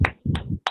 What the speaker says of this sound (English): but I can hear only one person clapping